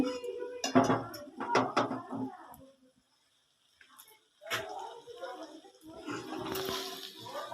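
Chicken ghugni sautés in a pot as a utensil clatters and scrapes against the metal in uneven bursts, with a brief quiet gap before more stirring and faint background noise.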